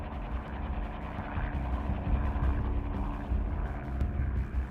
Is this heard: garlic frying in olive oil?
no